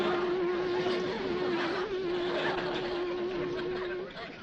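A voice imitates a bee with a steady, sustained buzzing hum for several seconds, close and moderately loud, then trails off.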